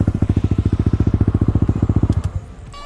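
A bored-up 200cc Yamaha Aerox scooter engine revving with a rapid, throbbing exhaust pulse that holds steady, then drops away and fades to a low idle near the end; close and loud, no voices.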